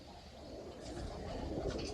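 Soft, low pigeon cooing close by from a short-footed pigeon, a few rolling coos over quiet background noise.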